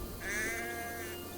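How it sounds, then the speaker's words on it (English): A distressed sheep in the video game Assassin's Creed Valhalla lets out a single quavering bleat, fairly faint and set over a steady low game ambience. "Sounds like a sheep, not a happy one"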